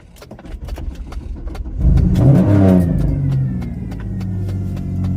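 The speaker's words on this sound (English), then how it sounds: "You want your engine to make some noise" A car engine revs up hard close by, jumping from a ticking idle to a loud rising roar that settles into a steady rumble.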